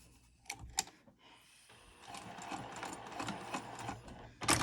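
A sewing machine stitches fabric while a wristlet clutch is sewn, with a few brief clicks first and then a steady, close run of rapid stitching that swells louder near the end.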